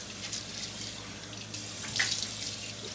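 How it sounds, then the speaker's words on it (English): Tap water runs steadily into a sink for face washing before a shave, a continuous close splashing hiss with a slightly louder surge near the end. "I should wash the face before I do the shave"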